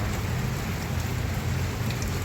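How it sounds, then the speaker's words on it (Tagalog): Heavy rain pours steadily onto a flooded farm plot, a dense, unbroken hiss with a deep rumbling undertone, loud and close, with no voices heard. "Pero ito naman, sobra naman sa ulan."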